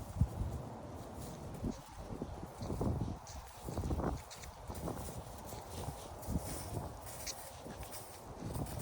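Tink the horse walking at an unhurried pace, hooves clip-clopping in a steady rhythm at moderate distance, with faint outdoor ambience and occasional soft rustles.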